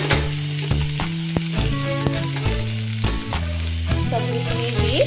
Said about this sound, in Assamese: সবজিখিনি দি ভালদৰে লৰাই এইখিনি ভাজি লম